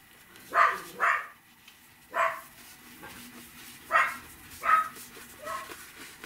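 A dog barks nearby in an ordinary setting, giving about seven sharp single barks with short irregular pauses between them, clear and moderately loud against a quiet background.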